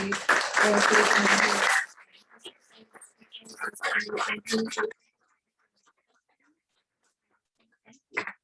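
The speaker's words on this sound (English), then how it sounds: "I just want to give a big round of applause to" Audience applause at a community storytelling event on seeking asylum, a dense burst of clapping for under two seconds, followed by scattered quieter claps and murmuring that fade into near silence.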